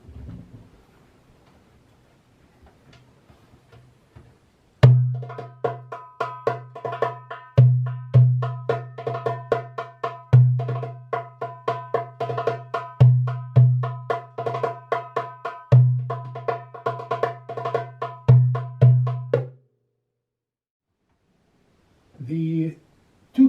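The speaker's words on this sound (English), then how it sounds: "And on the tabla, it sounds like this." Tabla drum played solo in a rhythmic pattern of resonant strokes with a ringing low pitched bass tone, close and clear, lasting about fifteen seconds before stopping, with a brief tap near the end.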